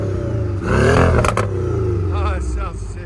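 A 2017 Porsche 718 with a 2.0L turbo engine and an aftermarket cat-back exhaust, blipped in sport mode, rising to a loud rev and then settling back to a rumbling idle, close by.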